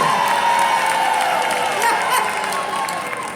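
Crowd at a flower show designer contest claps and cheers for an entrant's floral design, steady dense applause with scattered whoops throughout, easing slightly toward the close.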